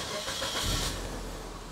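A 2014 Suzuki Ertiga GX engine starting, a short burst of cranking that catches into a steady, close engine rumble as it settles toward idle.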